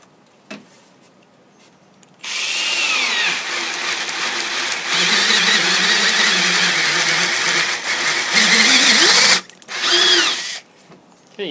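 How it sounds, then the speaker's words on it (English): A power drill fitted with a sharpened Harbor Freight ship auger bit whirs up after a quiet start and cuts steadily for several seconds, then stops and gives a second short burst. "you can see that it bites right in there and cuts right through it"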